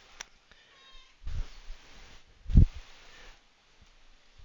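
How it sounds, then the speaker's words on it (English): A pet cat meows indoors, giving two drawn-out mid-loud calls a little over a second apart over quiet room tone, with faint clicks around them. "Are you finding different ways to meow today?"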